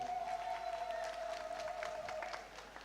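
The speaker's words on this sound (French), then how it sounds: "Applaudissements pour eux" A studio audience applauds semifinalists at a French-language televised talent show, a steady wash of clapping with crowd noise and a sustained tone running beneath it.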